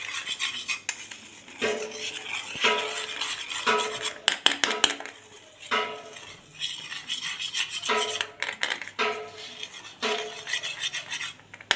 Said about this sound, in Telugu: మొత్తం ఇలా మిక్స్ చేసేసుకోండి.